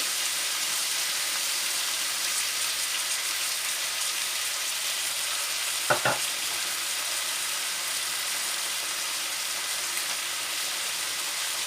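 Beef pieces browned on all sides hiss in a hot pan with a steady, loud, broadband sizzle as balsamic vinegar goes in, a brief sharper crackle flaring midway.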